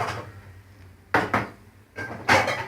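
A kitchen mixing bowl is handled for scalding tomatoes for a zucchini cake: three close, sharp clinks and knocks land in quick succession near the end, with no talking.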